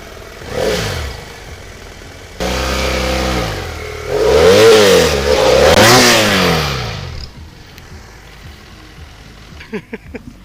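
A BMW F700 GS motorcycle engine roars and revs up and down repeatedly in a mud bog, rising and falling in pitch, loud and close, then drops to a low idle with some clattering.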